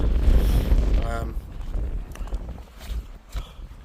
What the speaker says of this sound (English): tent's buckling over the wind